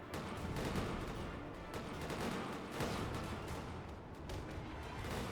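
Ottoman riflemen firing volleys in a Mount & Blade II: Bannerlord battle, a dense, continuous crackle of musket shots and booms rolling on without pause, fairly steady in loudness.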